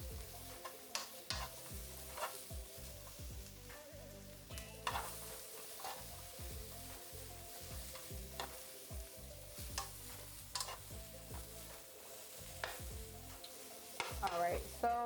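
Onions and vegetables for a vegan Cajun pasta sizzle steadily in a frying pan, left to char, while a utensil stirs and scrapes them in repeated close strokes throughout.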